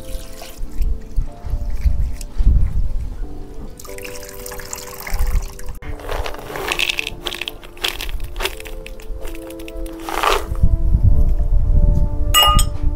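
Foraged wild leafy greens, the tender top leaves of ranbhaji, are washed by hand in water, giving close splashing, sloshing and crinkling of wet leaves, with faint dripping and running water throughout.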